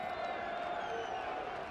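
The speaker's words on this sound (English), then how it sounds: "Can't you hear the shouting and screaming? Seems like there's a huge crowd outside." Crowd shouting and screaming outside during a stage play, a steady, muffled wash of many voices with faint cheering, under talk.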